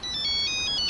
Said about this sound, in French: Merde, mon téléphone!